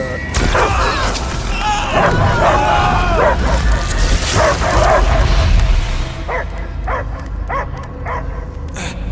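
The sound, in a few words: dog barking in the video game Guardians of the Galaxy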